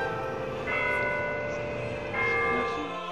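A church-style mission bell rings with sustained, ringing tones, two strikes swelling about two seconds apart over a lingering hum, fairly loud and alone.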